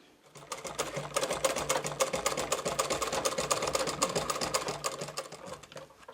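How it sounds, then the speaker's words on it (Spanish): Sewing machine stitching the edge of a handmade leather hunter's backpack, a rapid, steady mechanical needle clatter running continuously for several seconds at close range, then slowing to a stop. "Ángel repasa todo el borde con un cosido a máquina"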